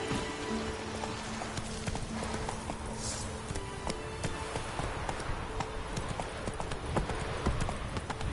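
Roach, the horse in The Witcher 3, gallops with fast, dense, continuous hoofbeats and a short whinny, loud and close, while someone speaks briefly.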